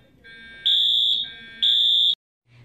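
A building fire alarm sounds in two long, loud, piercing electronic tones with a short gap between them, heard close and alone.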